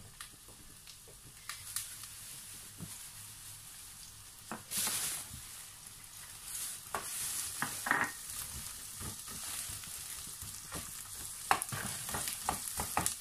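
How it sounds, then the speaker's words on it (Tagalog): Onion sautés in two tablespoons of cooking oil in a pan, a faint, steady sizzle broken by scattered clicks and stirring scrapes and a few louder bursts of hissing. "Saka po muna natin gisahin ang ating sibuyas."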